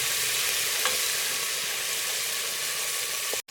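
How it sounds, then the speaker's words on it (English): Garlic sizzling steadily in a hot pan for an Ambur chicken biryani, a dense continuous hiss with a brief stir-like accent near the start, cut off by a short break at the end. "So for 2 minutes you can cook the garlic"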